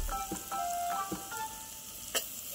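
Curry leaves dropped into hot oil with onion, ginger and garlic over a village wood-fired stove give a crackling sizzle, with scattered sharp pops and a faint high tone running through it.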